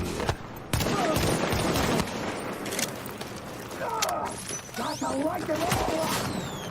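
Gunfire in The Division from a weapon that triggers secondary explosions: loud rapid bursts and blasts across the whole stretch, mixed with game effects and some talk.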